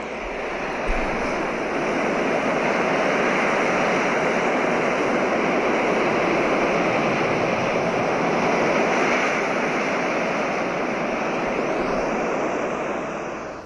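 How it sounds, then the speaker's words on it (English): Ocean surf rolls in a broad, steady wash of noise that holds loud and unbroken for the whole stretch, with no voices present and a rushing, windy quality throughout. "the relaxing sounds of ocean waves"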